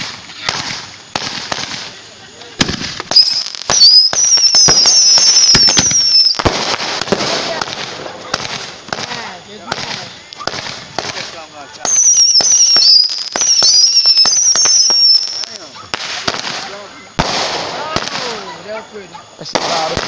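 Fireworks go off in repeated crackling bursts with whistling shrieks and sharp pops, several loud volleys spread across the stretch, while people talk and shout between them.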